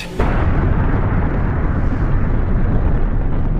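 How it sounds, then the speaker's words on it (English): A deep, roaring explosion effect representing the Big Bang bursts in sharply at the start and then sustains as a loud, dense, continuous rumble with no fading for several seconds. "this tiny ball of matter exploded"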